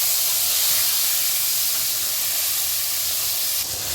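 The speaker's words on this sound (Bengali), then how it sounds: "এবার দিয়ে দেবো আমার কেটে রাখা টমেটোগুলো।" Chopped tomatoes hitting hot mustard oil with bay leaf and cumin, producing a loud, steady, dense sizzle and hiss that continues unbroken and close throughout, no voices.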